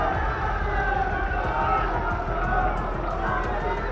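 A large crowd claps strongly at a political rally with the chief minister present, a dense, steady wash of applause and crowd noise that holds at full level from start to finish.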